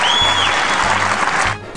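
A crowd at a John McCain speech cheers and applauds in a dense, loud roar of clapping and shouting, with a high whistle-like tone early on; the noise fades slightly at the end.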